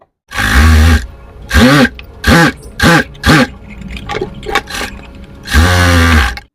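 A sewing machine stitches a stiffener onto fabric in several bursts of loud, close mechanical whirring, each run lasting about half a second to a second with short pauses between, and a longer run at the end.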